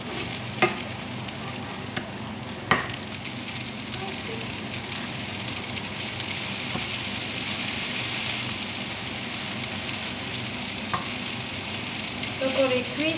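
Half a butternut squash frying in a pan, giving a steady sizzle with light stirring, plus a few sharp clicks and scrapes of utensils throughout.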